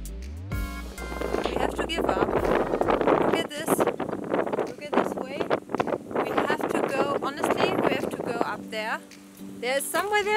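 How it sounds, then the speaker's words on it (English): Strong wind on Mount Tsukuba buffets the microphone in continuous low rumbling gusts, running under near, steady talk throughout. "also it's very windy"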